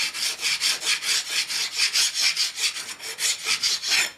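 A large metal file rasps across a Harley shovelhead engine case under repair, in steady rhythmic back-and-forth strokes, close and fairly loud, about ten even passes with no talking.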